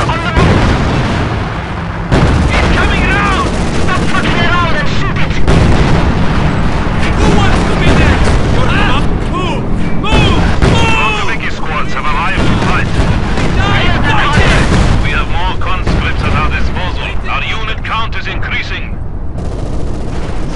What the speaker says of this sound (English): German howitzers are still pounding the village!